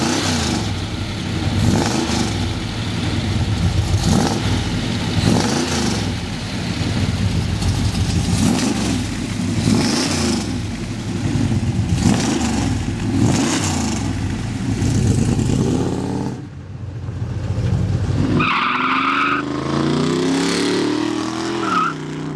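A 1967 Shelby Cobra replica drives past loud and close, its engine surging and revving in repeated climbing sweeps, then briefly backing off before revving hard again near the end.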